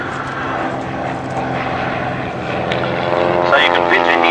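Cessna Bird Dog observation aircraft flying, its steady droning engine and propeller hum running continuously and growing slightly louder toward the end, with a voice talking over it.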